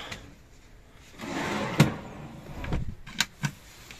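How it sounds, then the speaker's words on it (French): A large drawer slides open beneath the sofa of a motorhome, giving a scraping, rumbling glide of about two seconds, followed by a few light knocks and clunks, close up and moderately loud. "on peut accéder au coffre sous canapé avec un grand tiroir"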